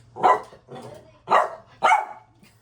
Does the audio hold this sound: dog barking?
yes